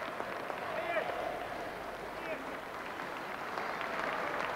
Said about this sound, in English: applause raining down for this fantastic skater from Birmingham